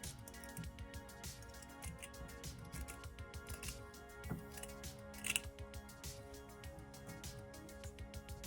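Scissors snip out a shirt pattern for a ball-jointed doll, a series of quiet, close, irregular cuts, each sharp and brief, with a slightly louder cluster of snips near the middle.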